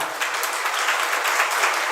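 An audience at a spiritual discourse claps together in a steady, even wash of applause that carries on without a break, and no one speaks over it.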